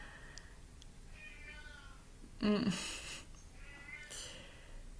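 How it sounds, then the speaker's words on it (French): A house cat meowing behind a woman during a live stream, a few faint drawn-out meows in the background around a louder short vocal sound, with a brief murmur. "Je suis perturbée parce que j'ai mon chat qui miaule derrière."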